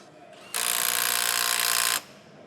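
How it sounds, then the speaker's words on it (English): A standard impact wrench tightens pipeline bolts in one sustained, loud burst of rapid hammering of about one and a half seconds, starting and stopping abruptly against quiet surroundings. "going to use just a standard impact wrench now"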